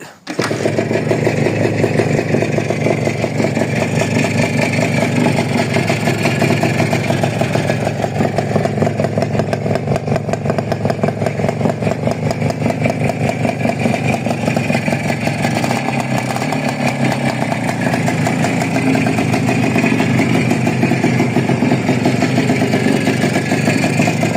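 A motorcycle engine idles steadily and loudly throughout, its cylinder liner reportedly at second repair size, with a continuous low rumble and no talking.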